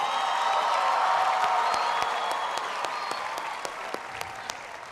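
A crowd at a USC commencement ceremony breaks into sustained, loud applause with some cheering mixed in, the clapping slowly fading toward the end.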